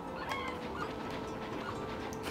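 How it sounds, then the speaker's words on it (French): Birds squawk and cluck in the Okami video game, a dense, steady chatter of fowl-like calls filling the scene at a constant loud level with no pauses. "Les oiseaux qui me cassent les oreilles."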